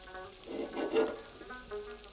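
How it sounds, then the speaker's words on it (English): Vegetables sautéing in olive oil in a pan, a short soft sizzle swelling briefly then fading, close and moderate in level. "we can see that the vegetables have been perfectly sauteed"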